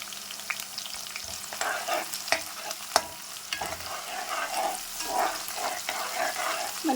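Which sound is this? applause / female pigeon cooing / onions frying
onions frying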